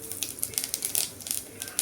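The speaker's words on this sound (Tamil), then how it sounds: "சீரகமும் பொரிஞ்சிருச்சு." Cumin and mustard seeds crackle and pop in about three spoons of hot oil, a dense run of sharp, irregular snaps close up with no voices over them.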